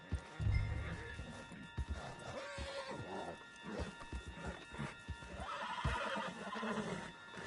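Horse hooves clatter in a running rhythm while a horse whinnies, with scattered bumps and thuds in a lively Red Dead Redemption 2 game scene.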